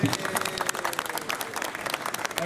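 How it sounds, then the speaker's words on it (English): An audience applauds throughout with dense, steady clapping, close and loud, as a small gathering claps to thank someone presented with a cake. "Big round of applause for Hornby"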